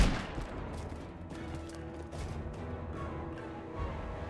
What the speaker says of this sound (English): And shoot the hand cannon,